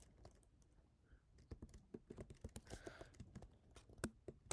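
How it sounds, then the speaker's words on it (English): Typing on a computer keyboard at a desk: quiet, irregular clicks of keys that come in quick bursts and grow busier toward the end, close up with no talking. "In fact, I'm so tired of just typing"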